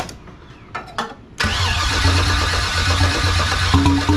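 A car engine cranks in a few short bursts, then catches and settles into a loud, steady idle close by.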